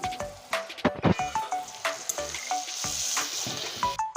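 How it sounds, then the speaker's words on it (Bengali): Onion and green chilies fry in hot oil with salt, a bright continuous sizzle broken by repeated scraping and clinking stirs against the pan, close and lively. "দেখুন পেঁয়াজ আর লঙ্কাটা লাল করে ভেজে নিয়েছি"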